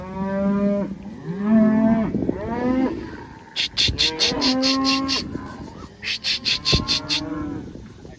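A rotationally grazed cow herd with calves, out by a pond dam, gives several long, close, drawn-out moos one after another, with brief pauses between calls.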